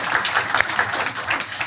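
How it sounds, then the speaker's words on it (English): A small audience at a UNSW law journal issue launch gives brief, light applause, individual claps audible in a scattered patter that tapers off. "this is your cue to clap, should you wish, of course"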